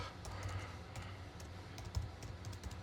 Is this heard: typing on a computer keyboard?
yes